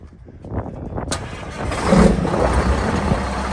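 A 2006 Mack Vision CXN613 wrecker truck with a 425-horsepower diesel cranks briefly, then fires and settles into a loud, rough rumbling idle close by.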